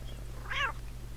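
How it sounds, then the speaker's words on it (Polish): A kitten in the video game Postal 2 gives one short, high meow over a steady low background hum. "Kociak."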